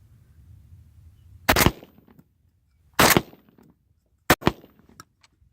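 Three sharp, loud shotgun blasts from a Hatfield USA12C SAS camo shotgun firing Winchester AA trap loads, spaced about a second and a half apart, each cutting off quickly into a short ringing tail over a quiet outdoor background.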